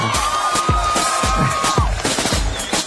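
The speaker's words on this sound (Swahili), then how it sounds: "Wapi makofi ya mheshimiwa Ikram Amina." A student crowd at Kenyatta University cheers and claps for a politician, a dense, loud roar of voices with rhythmic bursts of clapping and a sustained whistle running through it.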